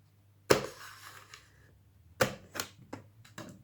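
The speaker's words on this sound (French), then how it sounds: "Alors, on va déballer ensemble." A box of 50 markers is unpacked up close: sharp plastic clacks and rustles come in two bursts, with a short quiet gap between them.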